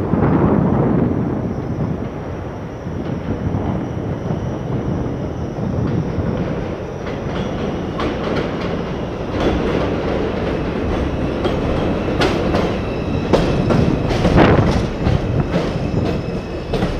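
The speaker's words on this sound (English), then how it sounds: "Local 2, train to Wakefield 241st Street. Approaching the station" A New York City subway 2 local train bound for Wakefield–241st Street rumbles into 225th Street station, with loud, sustained rolling roar, clickety-clack wheel beats and brief squeals as it approaches and slows.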